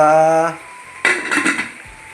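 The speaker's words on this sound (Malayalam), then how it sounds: "നമ്മൾ കുക്കർ അടച്ചിട്ടുണ്ട്" A pressure cooker lid is closed with a short, loud burst of metallic clattering and clanking, preceded by a brief voiced sound and then quiet.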